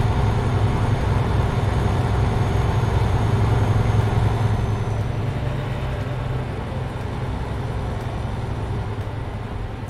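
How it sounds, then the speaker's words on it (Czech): MAN TGX Euro 6 truck engine in Euro Truck Simulator 2, a steady low diesel drone running continuously, slightly louder in the first half and then settling to an even hum. "Ale oproti predchádzajúcemu motoru, čo sme používali, tak je trošku hlučnejší."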